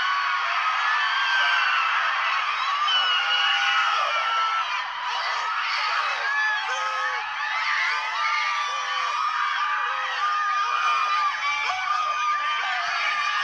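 Chaotic overlapping screams and high yelps from a man and women, loud and continuous throughout, with dense shrill cries layered over one another like a frantic crowd.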